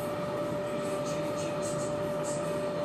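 A Gourmia GTA 2500 air fryer runs beside an old bathroom fan used as a stove exhaust, giving a steady whirring drone with a thin constant hum, unbroken and moderately loud, heard from a few feet away.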